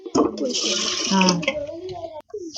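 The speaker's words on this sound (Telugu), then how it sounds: "ఒకసారి కడిగి" Water is poured and splashes during washing, making a loud, close burst of gushing, with a voice talking over it and a brief quiet gap near the end.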